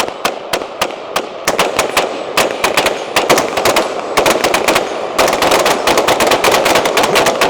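A budget $349 rifle fires .223 PMC X-Tac rounds during a high-volume torture test, a loud, close, rapid stream of sharp shots in quick irregular strings with barely any pause.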